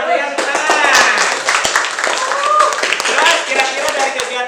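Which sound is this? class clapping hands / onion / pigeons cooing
class clapping hands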